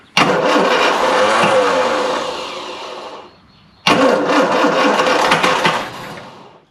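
A classic Mini van engine, off the road for 25 years and running without a working choke, cranks loudly and sputters in two long bursts, separated by a brief pause, as it tries to catch.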